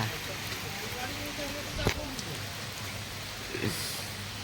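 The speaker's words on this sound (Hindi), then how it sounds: "वर्षा पूरा आसी गेल" Rain falling outdoors as a steady broadband hiss throughout, with a couple of faint knocks and indistinct voices in the background.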